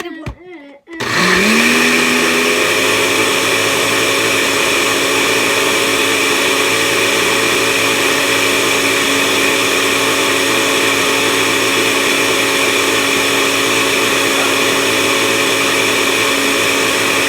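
A kitchen blender churns a thick milkshake, a loud steady motor whine with a harsh grinding edge that starts abruptly after a second and runs without a break.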